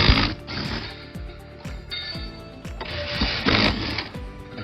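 A ratchet wrench loosens 10mm hex bolts on the base of a Clearview towing mirror, a rapid series of close clicking strokes in short bursts with brief pauses between them.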